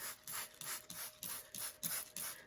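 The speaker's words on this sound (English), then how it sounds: "I'm going to just gently spray the top with a very fine mist of warm water" A spray bottle mists warm water over the top of a plant in a quick run of about eight soft, hissing squirts, close and quiet, in a steady rhythm with no talking.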